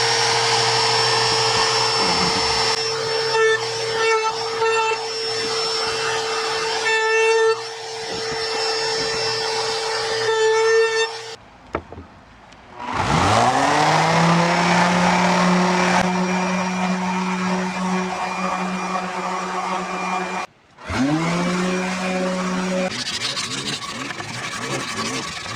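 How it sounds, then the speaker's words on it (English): A router rounds over the wooden edges of a handmade foot massage tool, running loud and steady with a whining tone, briefly cut off and restarted twice. "now I've got to route the edges nice and round"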